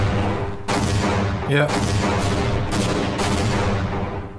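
A chain of explosions in Half-Life: dense, loud blasts crowd the scene, broken by a brief gap, with a voice briefly speaking between the bursts.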